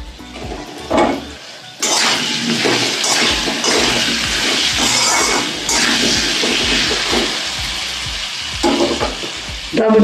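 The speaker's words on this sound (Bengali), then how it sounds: "টমেটোর সঙ্গে একটু ভাজা ভাজা হোক" Potatoes and tomatoes fry loudly in a pan, a sudden burst of hissing sizzle when the tomatoes go in, then a steady close sizzle with stirring scrapes.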